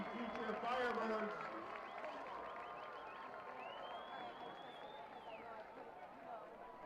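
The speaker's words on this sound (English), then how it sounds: "A big round of applause for Chaparral cheering the future Firebirds." Crowd at a Chaparral high school football game applauds and cheers, a broad sustained wash of clapping and voices peaking early and then holding steady, with a whistle-like tone rising briefly in the middle.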